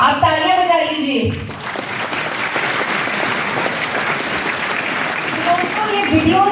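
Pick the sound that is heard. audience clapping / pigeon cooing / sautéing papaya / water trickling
audience clapping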